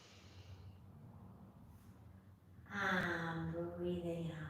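A deep breath drawn in and then released during a tai chi session, soft airy inhalation followed by a fuller exhale, close and fairly quiet, with a voice speaking over it.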